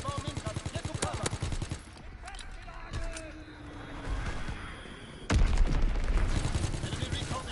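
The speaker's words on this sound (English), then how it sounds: "Enemy strafing run inbound." Rapid bursts of gunfire from an enemy aircraft strafing run in a WWII multiplayer shooter, sharp repeated cracks and rattles early on, then a heavy impact, with a player talking over the battle noise.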